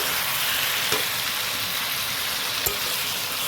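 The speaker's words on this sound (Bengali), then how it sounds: "এই যে চিকেনটা রেডি হয়ে গেছে, মানে কষাচ্ছি এখন" Chicken being slowly sautéed in a pan with spices, a steady, even sizzle and hiss with two faint stirring taps, close and alone with no talking.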